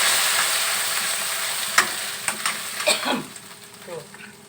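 Meatballs frying with green chili in a hot pan, a steady sizzle with several sharp stirring scrapes and pops in the second half.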